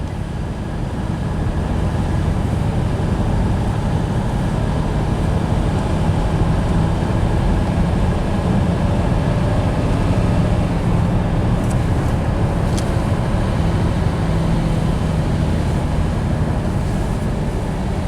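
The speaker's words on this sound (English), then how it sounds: "Initial test drive, good as new." A vehicle on its first test drive after staked U-joint replacement, with a constant loud road and engine drone holding steady throughout, smooth with no knocks, and no talk.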